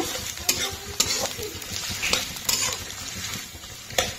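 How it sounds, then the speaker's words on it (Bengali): Food frying in oil in a pan is stirred with a spatula: a steady close sizzle broken by sharp scrapes and taps against the pan at irregular intervals, with no voices. "এবার এটাকে অল্প একটুখানি জাস্ট নেড়ে নেব।"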